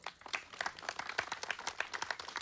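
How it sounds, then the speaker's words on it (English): After a Mohiniyattam dance by Sarah Varghese, the audience claps: faint, fairly distant applause with separate sharp hand claps standing out in an uneven, scattered rhythm, thinner than a full ovation. "Let's give her another round of applause"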